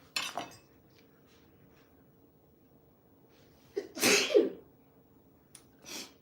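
A single sharp sneeze bursts out midway through an otherwise quiet room, preceded and followed by faint, brief clinks.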